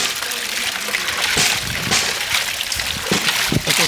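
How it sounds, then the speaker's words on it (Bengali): Shrimp are rinsed under running water, a continuous close splashing and trickling with irregular bursts as the water hits the shrimp, with no talking. "হ্যাঁ, আমরা এখন চিংড়িটাও ধুয়ে নেবো।"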